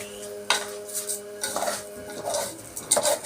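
Rice with orzo stirred in a metal cooking pot, with spoon scrapes and clinks against the pot in irregular strokes, close and fairly quiet, with no talking.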